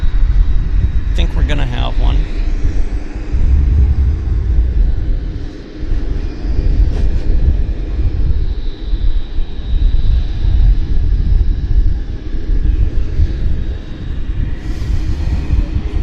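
A Korean Air Boeing 777 cargo jet taxiing out at Vancouver Airport, a heavy, steady low engine rumble and roar filling the scene at a distance, with voices faintly present over it.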